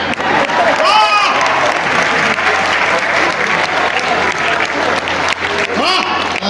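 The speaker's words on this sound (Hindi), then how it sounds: "तालियां बजानी ही होगी।" Loud, sustained crowd applause at an open-air Hindi poetry gathering in Rishikesh, dense clapping throughout with a voice speaking over it at moments.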